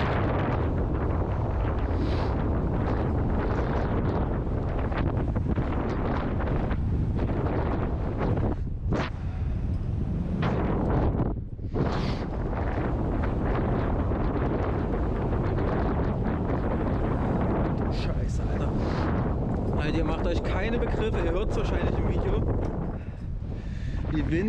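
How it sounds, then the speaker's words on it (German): Strong wind buffets an exposed rock climbing route on the Falkenstein's Schusterweg in Saxon Switzerland, a loud continuous roaring gust with brief lulls over about twenty seconds. "Das ist diesem Wind ultra ausgesetzt. Hinten pfeift es richtig rein."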